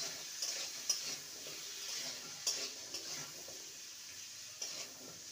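Potatoes fry with turmeric and salt in a pan, a steady hissing sizzle punctuated by a few sharp clinks of a spatula stirring against the pan.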